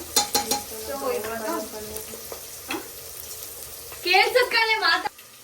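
Onions fry for chicken biryani in a home kitchen with a soft sizzle and the scrape of a stirring utensil, while voices speak and a louder burst of talk comes near the end.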